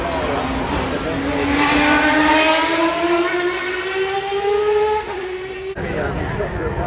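A Ferrari Le Mans race car screams past at a motorsport festival hill route, its loud high-revving engine holding a rising, steady pitch before a sharp upshift and a fading drone as it moves away.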